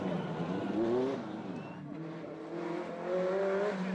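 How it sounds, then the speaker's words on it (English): A low-slung blue Ferrari 308 GTB rally car drives a gravel stage at the Legend Boucles de Spa 2012 rally. Its engine drones faintly in the distance, rising and falling in pitch as it accelerates and eases off. "Bjorn Waldegaard is still in it, but because his Ferrari is so low, he loses precious time on the gravel stage"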